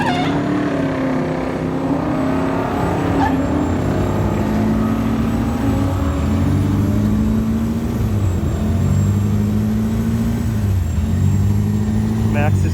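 A BMW engine held at high revs at a drag strip, loud and steady with a sustained roaring drone and slight pitch wavering throughout, with people talking over it.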